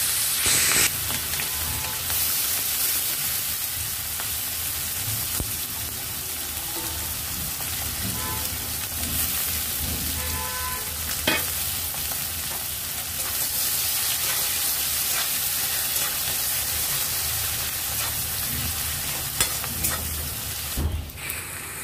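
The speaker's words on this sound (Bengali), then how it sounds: "এরপর দিয়ে দিচ্ছি পেঁয়াজ কুচি।" Steady, loud sizzling of chopped onions frying in hot oil with tempered spices, continuous throughout with occasional stirring scrapes and no talking.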